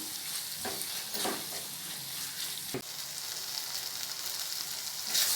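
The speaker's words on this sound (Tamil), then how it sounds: "இந்த எண்ணெயிலேயே அப்படியே ஃப்ரை ஆகி வரட்டும்" Steady, loud sizzling of spice masala frying in hot oil for brinjal varuval, with a few stirring scrapes and crackles breaking through the constant hiss.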